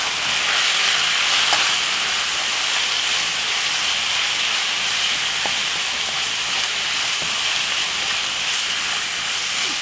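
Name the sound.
jerk beef mince sizzling in a pot while stirred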